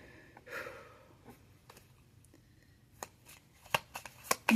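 Soft riffling of playing cards being shuffled, quiet at first, then a run of sharper snapping shuffles near the end.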